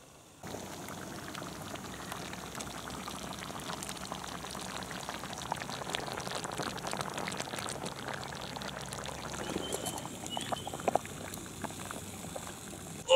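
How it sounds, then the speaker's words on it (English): A pot boiling on a stove, a continuous bubbling and gurgling that starts abruptly and holds steady, with a few sharper pops and clinks near the end. "So we'll let that boil away."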